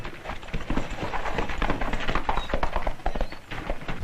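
Horse hooves clip-clop in a quick, steady rhythm, loud and close, with a busy background of movement.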